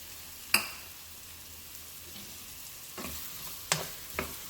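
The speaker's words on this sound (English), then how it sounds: "Okay, so now I'm going to add my potatoes." Potatoes sauteing in onion-flavored oil for Mexican chorizo con papas, a soft continuous sizzle broken by a few sharp pops and spatula scrapes, close and fairly quiet with no talking.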